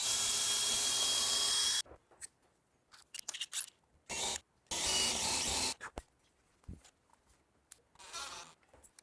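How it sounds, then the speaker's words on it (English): A power drill pre-drills and counterbores a wooden turkey box call, heard as two loud sustained whines, first near two seconds long, then shorter bursts with a longer run mid-clip, separated by quiet handling clatter. "I'm going to go ahead and pre-drill this, and then I'll counterbore the top."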